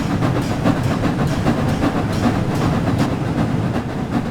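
The Flying Scotsman steam locomotive pulls away in the Train Sim World 4 simulator, giving a dense, continuous rumble with rhythmic chuffing and rail clatter at a steady, loud level.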